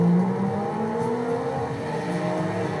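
A Lamborghini engine in the racing game Forza Horizon 2 drones and revs steadily at close range for a few seconds, with no talk over it.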